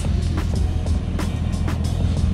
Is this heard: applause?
no